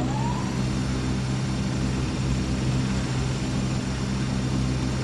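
Airplane engines drone in flight in the Extreme Landings Pro flight simulator game, a steady, dense roar that holds evenly loud throughout with no talk.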